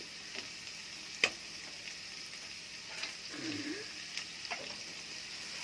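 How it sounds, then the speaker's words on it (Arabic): Quiet, steady sizzling of onion frying in butter in a pan, with a few soft clicks and a brief louder tap; no talking. "ابدا اقلب فيهم كده لحد ما البصله تتحمر معايا."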